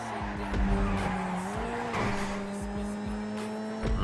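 Cars in a Grand Theft Auto 5 street race roar past with droning engines, their pitch sliding as they go, and tires squeal in short skids. Close and steady throughout, with no voice over it.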